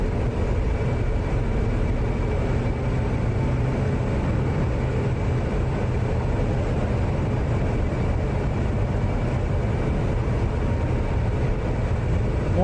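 An F/A-18 Hornet jet in the flight simulator DCS gives a steady, loud, unbroken engine roar and whine that holds level throughout.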